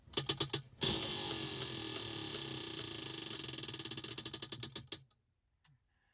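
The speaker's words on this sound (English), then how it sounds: "we're going to spin again for our third stitch" An online spin-the-wheel spinner picks a crochet stitch, giving a fast ratchet-like run of clicks that slows to spaced ticks and stops after about five seconds, then near silence.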